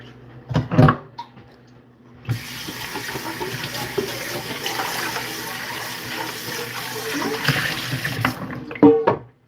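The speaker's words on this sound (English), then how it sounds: "So now we're going to run it through the strainer into this pot." Boiled tamarind juice pours through a strainer into the same cooking pot, a steady close splashing stream running for several seconds, bracketed by louder clanks of pot and strainer at the start and end.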